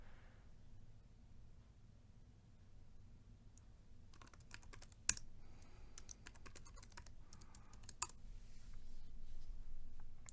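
Keys clatter on a computer keyboard while logging into a Fedora server: bursts of quick clicks, close but quiet, after a few seconds of near-silence, with a louder keystroke now and then and no talking.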